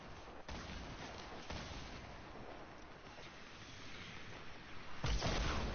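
Distant, muffled gunfire in a Fortnite match, heavy repeated booms and crackling shots blending into a continuous rumbling wash, with a louder burst near the end.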